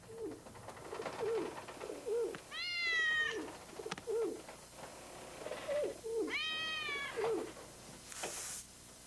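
An animated dove released from the ark, its soft repeated coos and a couple of rising tonal calls heard clearly in a quiet scene, with brief pauses between phrases.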